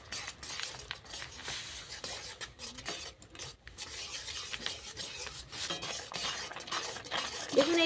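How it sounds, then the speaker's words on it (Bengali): Semolina is stirred into boiling water to form a dough, a continuous scraping and rubbing of a spoon against the pot, moderately quiet and with no talking. "দেখুন এইভাবে নাড়তে নাড়তে একটা ডো তৈরি করে নেব।"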